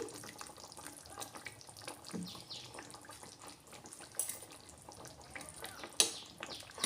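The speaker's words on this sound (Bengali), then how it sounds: "এবার দিয়ে দেবো মাছ আর দেবো মটরশুঁটি" Fish pieces and peas drop into a boiling curry with potatoes, setting off a steady bubbling, watery simmer with a few soft splashes and clinks, faint and continuous, no talk.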